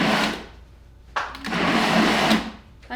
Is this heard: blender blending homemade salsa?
yes